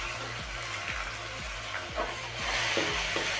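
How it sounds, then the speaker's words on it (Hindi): Chopped onions browning in hot oil in a pan for vegetable soup, a steady close sizzle with regular soft scraping strokes from stirring, growing slightly louder toward the end. "थोड़ा से प्याज को भी ब्राउन करेंगे।"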